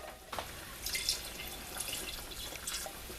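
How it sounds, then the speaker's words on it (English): Water trickles and splashes into a pressure cooker pot over chicken in uneven bursts, close by, with drips and a light gurgle. "I'm going to have to add just a little bit of water"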